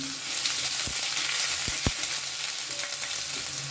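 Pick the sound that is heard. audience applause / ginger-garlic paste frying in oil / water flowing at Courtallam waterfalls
ginger-garlic paste frying in oil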